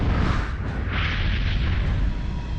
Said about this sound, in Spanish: Se lo conoce como la explosión de Tunguska.